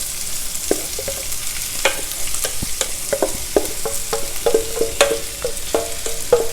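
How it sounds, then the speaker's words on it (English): Dals and spices are stir-fried in a pan, with a light sizzle under repeated scraping and tapping of a spoon against the pan, coming in quick, irregular strokes up close. "Stir fry everything till the dals are also well roasted."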